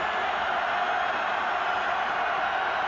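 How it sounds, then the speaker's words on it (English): A loud home crowd at a Montana State college football playoff quarterfinal against Sam Houston State fills the stadium with a constant, distant roar that holds steady without distinct cheers. "In front of a loud crowd here on the road."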